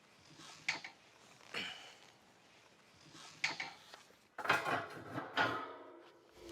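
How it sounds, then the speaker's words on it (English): A metal convector plate, or heat deflector, is fitted into a smoker grill, giving a series of clanks and scraping metallic knocks, close and fairly quiet, with a louder rattle near the end. "In order to do indirect grilling, we're going to install a convector plate, sometimes called a heat deflector."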